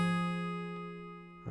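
A fingerpicked guitar note from a pinch and pull-off in one motion rings out alone and slowly decays, with a faint second pluck partway through and a new attack at the very end.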